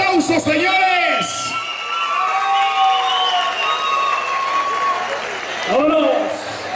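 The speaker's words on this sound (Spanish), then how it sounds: "le brindamos el aplauso, señores" Rodeo crowd at a bull-riding tournament applauding and whooping after a ride, under a loud announcer's voice and amplified calls, with scattered shouts rising near the start and end.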